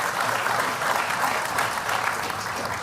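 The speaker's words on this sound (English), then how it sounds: "Yeah, we can clap to that" A crowd at a political rally applauds in a dense, steady wash of clapping that stays loud and even for the whole moment, with no talk standing out.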